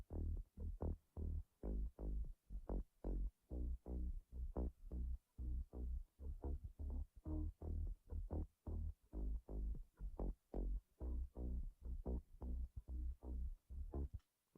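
A bass sound lifted from an original track and sped up for an electronic music breakdown; a quiet, deep, throbbing pulse of rapid, uneven bass stabs that runs continuously and alone, with no talk.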